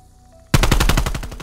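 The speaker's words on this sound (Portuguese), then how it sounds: "Não, vamos de AK-74 aqui mesmo, para vocês verem também como que é." Rapid automatic AK-74 fire in a Call of Duty game, a sudden loud burst of evenly spaced shots starting after a brief quiet moment and running to the end without talk.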